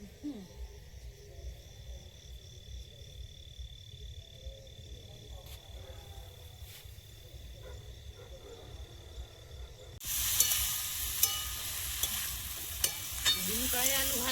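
Bean peas and potatoes fry in a pan on an outdoor evening stove, first under a steady background of night insects and frogs, then a loud continuous sizzle takes over near the end.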